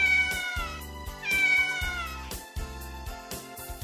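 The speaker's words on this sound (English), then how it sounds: "The cat." A cat meows twice in clear, drawn-out cries over steady background music, each call rising and falling, close and fairly loud.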